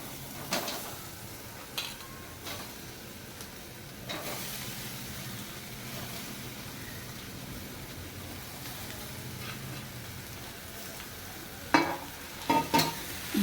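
Mashed potato sautéed with turmeric in a pan: a steady, moderate sizzle runs throughout, punctuated by a few sharp clinks and scrapes of stirring, with no talking.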